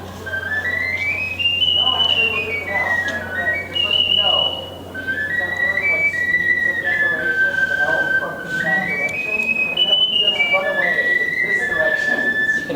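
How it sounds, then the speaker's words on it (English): A high-pitched sopranino ocarina plays a bright, bird-like melody of sliding and stepping notes, close and continuous, with a steady low hum running underneath. "this is a sopranino. And it sounds really high-pitched,"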